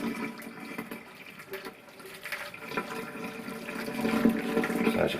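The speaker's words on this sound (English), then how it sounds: "we're going to tip scalding hot water all over our skin" Scalding hot water is poured over raw chicken skin while a Chinese-style roast chicken is prepared, making a continuous splashing pour that swells slightly louder toward the end.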